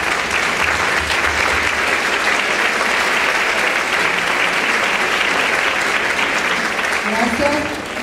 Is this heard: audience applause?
yes